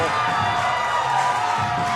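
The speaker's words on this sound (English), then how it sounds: "listen to everybody here in the building chanting the man's name" Wrestling crowd inside a building at a Hybrid event chanting the wrestler Animo's name, a dense, steady roar of voices filling the hall with faint whoops, mid-distance and fairly loud.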